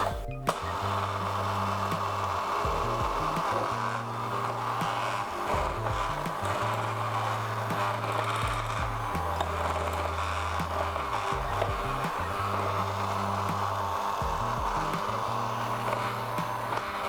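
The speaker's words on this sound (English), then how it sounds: "keep your mixer on low and start adding in the kefir or the buttermilk" An electric mixer running on low beats muffin batter, a steady mechanical whir with a rhythmic, repeating low hum pattern, close and continuous throughout.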